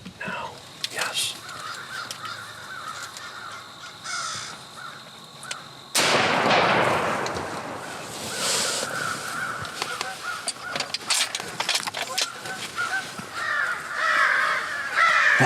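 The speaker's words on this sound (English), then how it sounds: "The crows are going nuts." A loud gunshot from a hunting blind, then a chorus of crows cawing repeatedly nearby, their harsh calls continuing over the rustle and ambient noise of the field.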